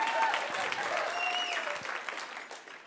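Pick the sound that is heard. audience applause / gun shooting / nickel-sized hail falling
audience applause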